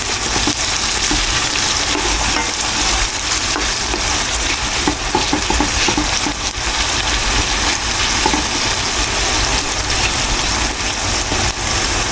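Potatoes and carrots frying in hot oil, a dense, constant sizzle and crackle that stays loud and even throughout with no voices over it.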